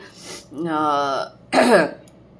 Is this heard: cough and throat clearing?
yes